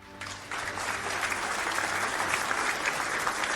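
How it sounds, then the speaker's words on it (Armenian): Audience at an award ceremony breaking into steady applause, a full, even wash of clapping hands that starts abruptly and holds at a constant level throughout. "Շնորհավորենք եւ ծափահարենք։"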